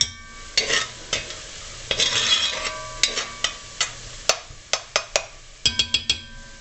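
Onions sizzling in a hot pan for Salisbury steak, with a utensil stirring and scraping, giving a steady fry hiss broken by a series of sharp metallic clinks against the pan, close and clear, no talking.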